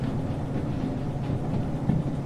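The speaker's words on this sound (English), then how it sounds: "for now we'll just worry about driving the train" Train rumbling along the track in Derail Valley, a steady low engine drone with faint rhythmic rolling clatter, continuous and fairly close, no talking.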